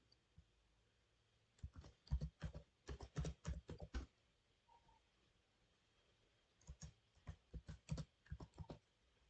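Bursts of rapid keystrokes on a computer keyboard while entering a site name, two separate runs of quick, close clicking with a quiet pause between them.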